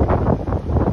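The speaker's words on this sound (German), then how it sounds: "ich kann nicht genug sagen, wie windig es ist" Strong gusts buffet the microphone on an Amsterdam street in October, a loud, rumbling, fluttering roar that swells and dips throughout.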